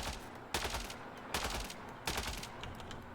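Assault rifle fire from the sci-fi shooter Mass Effect Andromeda, three loud bursts of rapid automatic shots, each lasting about half a second, spaced evenly apart.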